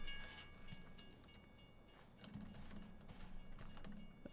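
A train passes in the farming video game Farming Simulator 17, a faint, steady rail rumble with soft clanks that grows slightly louder toward the end.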